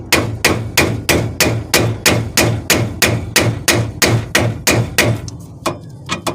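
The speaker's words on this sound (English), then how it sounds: "you can just use a hammer and give it a little tap" A hammer delivers about fourteen steady, evenly spaced metallic taps, knocking a brake part loose on a Chevy Cobalt Sport during caliper and rotor removal. The strikes are close and loud, sounding alone, and they stop near the end.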